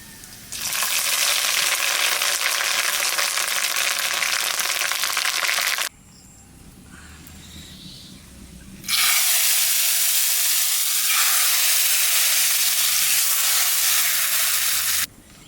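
Leafy greens dropped into hot oil for khichuri: a loud, dense, steady sizzle and hiss, close up, that breaks off for a few seconds into quieter clatter before the roaring fry resumes and continues, without voices.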